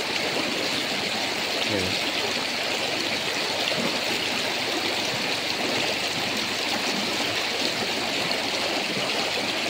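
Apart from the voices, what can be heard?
flowing river water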